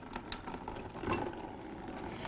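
Water is poured quickly into a plastic bottle pierced with holes, making a faint, continuous gurgling and splashing rush with small drips.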